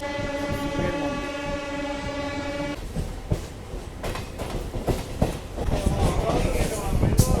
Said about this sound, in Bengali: এই মুহূর্তে আমার ট্রেন ছেড়ে দিল সাঁতরাগাছি রেলওয়ে স্টেশন থেকে